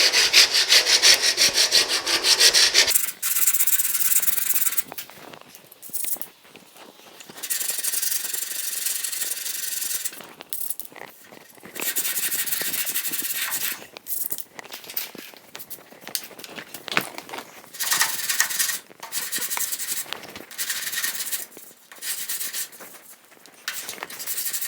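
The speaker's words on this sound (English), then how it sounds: "we're gonna be back over here sanding" Longboard sanding of body filler with 40 grit on the lower cab patch panel of a 1950 Chevy truck, steady close rasping strokes in long runs with brief pauses, no talking.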